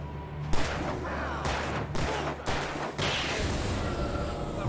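Gunfire in Alan Wake Remastered, several sharp shots breaking over a dense game soundscape, with a player speaking briefly between them.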